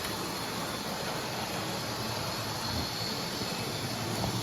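A model railway freight train hauled by a class 92 locomotive runs slowly around the layout, giving a steady, even rumble and whir that stays constant from start to finish with no one talking.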